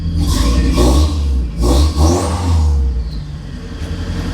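An open-top Geo Tracker engine cranks with a sluggish starter, catches and revs in a few loud swells before settling into a steady idle, close to the listener with no talk.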